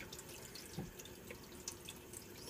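An ELF makeup brush is rinsed under a running tap. The water patters and splashes steadily at low volume, with a few small drips standing out.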